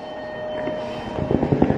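A train rumbles through a Japanese railway station, with steady mechanical noise, a faint tonal whine and rhythmic clacking that grows louder toward the end.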